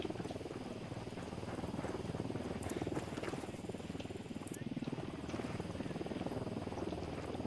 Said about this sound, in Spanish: es que está el helicóptero ahí sobrevolando